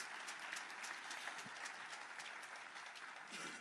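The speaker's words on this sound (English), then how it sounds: "let's give them a good round of applause" A crowd at a homecoming ceremony for freedom fighters who died in exile in Zambia and Zimbabwe gives a sustained, even round of applause, fairly quiet and distant, with no break over its few seconds.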